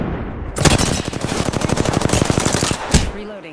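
Rapid automatic gunfire from an Apex Legends match, a dense burst of evenly spaced shots lasting about two and a half seconds, followed by a couple of louder single cracks before it fades.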